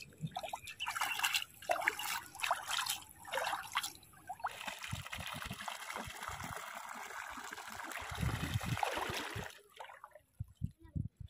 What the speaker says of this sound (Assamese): আমি কি কৰিম, নদীত নদীৰ পানীত ধুম